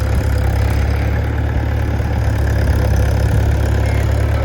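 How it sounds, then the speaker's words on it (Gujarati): Tractor loaded with sugarcane bound for the sugar factory, its engine idling with a steady low rumble and throb, loud and continuous with no talk. "આ ટ્રેક્ટર હવે જાય સુગરમાં ભરીને."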